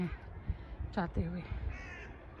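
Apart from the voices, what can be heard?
crows cawing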